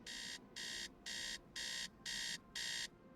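An alarm clock in the video game Tales of the Neon Sea beeps in a steady rhythm, six evenly spaced electronic bursts with short pauses between them.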